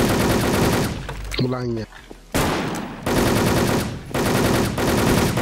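Loud, sustained automatic gunfire in a shooter video game, continuous bursts with brief gaps, while a player speaks over it.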